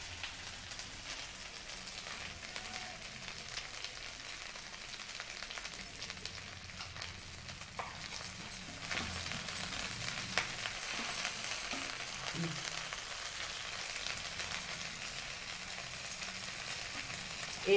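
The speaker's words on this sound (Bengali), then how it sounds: "আদা পেঁয়াজটা ভাজা হয়ে গেছে," Ginger and onion fry in a pan as salt goes in for a vetki fish malai masala, a soft, steady sizzle with scattered light clicks that swells a little halfway through.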